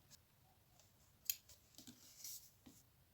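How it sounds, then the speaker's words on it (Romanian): Scissors snip through crochet thread once, giving a single sharp, close click with a few faint clicks and rustles around it in an otherwise quiet room. "Și acum tai firul"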